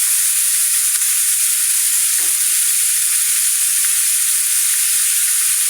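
Ginger paste fries with beef in a pan, making a loud, constant hiss and sizzle close up. It is briefly disturbed by a single stir near the middle.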